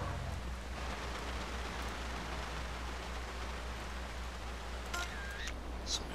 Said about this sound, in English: along with that, I get rain